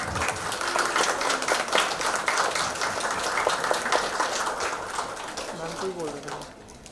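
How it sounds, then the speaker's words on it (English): An audience at a real estate industry event applauds for several seconds, brisk steady clapping that fades toward the end as a voice begins speaking over it. "Round of applause."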